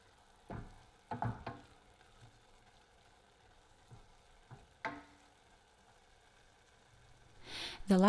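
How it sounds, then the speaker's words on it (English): Salted cremini mushrooms sautéing in a saucepan with aromatics, giving a faint, low sizzle broken by a few soft clatters of stirring. "Season the mushrooms with salt and sauté them until they have softened and released their juices"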